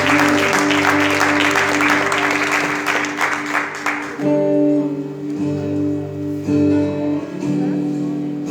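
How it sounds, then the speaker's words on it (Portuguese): A church congregation claps at an evening service, dense loud applause for about four seconds that then gives way to sustained music tones as the clapping fades. "E vamos aplaudir ao Senhor mais forte ainda."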